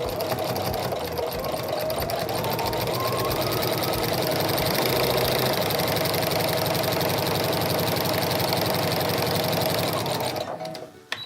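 A sewing machine fitted with a walking foot quilts a straight line, whirring steadily at an even speed for about ten seconds before stopping abruptly near the end.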